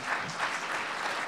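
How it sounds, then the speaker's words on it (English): A conference audience applauds a panel at an innovation policy summit: a short, dense burst of many hands clapping at moderate volume, with no talking. "let's give them a round of applause"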